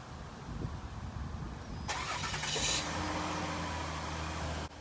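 A car engine cranks and catches, then settles into a steady low idle hum, with a short rough burst at the start and a faint background before it.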